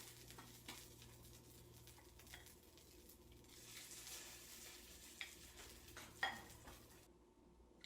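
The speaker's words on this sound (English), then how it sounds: "You can hear that sizzle. That sizzle is a good thing." A pan of cachapas, corn pancakes, sizzles steadily in the background, quiet and continuous, with a few soft clinks of a utensil and no voices.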